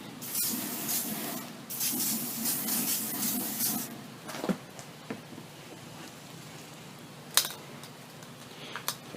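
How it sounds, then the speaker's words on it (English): Pam canola oil cooking spray hissing onto a hot grill in a few close bursts during the first four seconds, followed by faint clinks and quieter sounds. "I'm going to spray it with some Pam canola oil."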